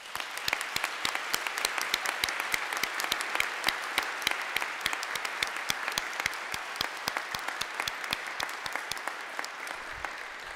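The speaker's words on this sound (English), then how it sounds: "Let's give all of them a round of applause." An audience at an academic symposium applauds its support team with sustained clapping, crisp individual claps standing out in a steady, fairly even patter that holds for about ten seconds without talk.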